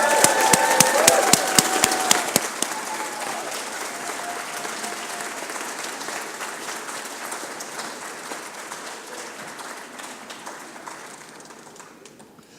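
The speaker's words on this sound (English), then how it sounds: "would we please give a big round of applause for all those individuals?" Big round of applause from a crowd at a university law school anniversary ribbon cutting, starting with sharp nearby claps then settling into a long, steady ovation that slowly tapers off.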